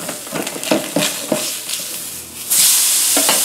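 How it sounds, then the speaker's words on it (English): A steak turned over in a hot pan, with scraping and stirring clatter giving way to a loud, steady sizzle that fills the last second. "Now we're going to flip it to the other side."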